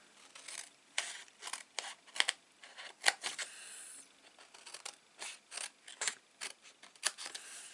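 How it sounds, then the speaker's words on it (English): Snips cut through craft material for a stationery box in a rapid series of about twenty crisp, close snapping cuts, quiet between strokes, with no talking. "we're going to grab our snips"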